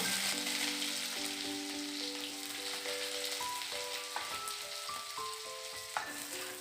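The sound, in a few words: garlic and onion frying in pan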